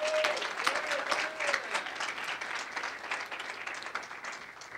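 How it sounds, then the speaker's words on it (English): Audience applause at an Ignite entrepreneur speaker event, a steady wash of many hands clapping for the full length, fairly loud and even, with a faint voice briefly audible near the start. "start this off with a nice round of applause for Amir"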